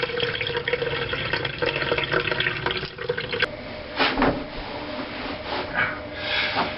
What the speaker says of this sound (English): We're just going to carefully pour the water off